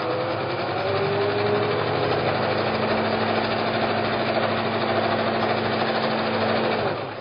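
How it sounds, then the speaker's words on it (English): Electric sewing machine stitching log cabin quilt pieces together, a steady continuous mechanical hum with a rapid needle rhythm running close and alone for the whole stretch. "Take a couple of stitches. Leave your needle down. And then even up the bottom edges and continue sewing."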